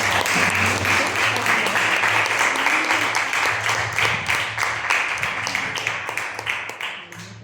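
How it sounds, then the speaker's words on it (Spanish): A church congregation gives loud applause to God during a morning service, dense clapping that later breaks into more distinct individual claps as it fades, over a low hum. "Den un fuerte aplauso al Eterno."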